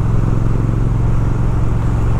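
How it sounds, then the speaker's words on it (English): A 2019 Triumph Speed Twin motorcycle engine lugging along in fourth gear at about 2400 rpm and 50 km/h, a steady low close putting drone with no speech. "Just this putt, putt, putt, putt at 2400 RPMs, it loves it."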